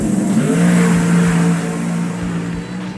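A turbocharged Chevrolet Camaro Pro Mod drag car, driven by Jari Rantaniemi, accelerates hard with a loud, steady engine roar and rising harmonic whine, the pitch climbing through a gear change before the sound tapers slightly as it pulls away.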